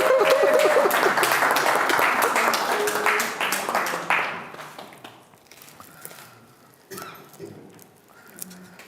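Applause at an awards ceremony during a diplomatic conference, loud, dense clapping for about four seconds that then thins out and fades, with scattered claps and faint background noise afterward.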